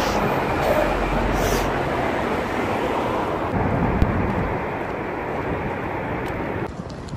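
A steady, broad rumble of a train at a London station platform fills the air, loud and continuous, with faint rattles and a brief change near the end.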